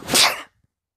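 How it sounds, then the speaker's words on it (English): A single short, breathy sneeze, close and fairly loud, bursting out and cutting off within half a second, followed by near silence. "I accidentally sneezed."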